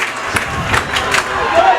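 A high school football crowd cheers in short loud bursts and rhythmic shouts, mixed with clapping and voices in a stadium throughout.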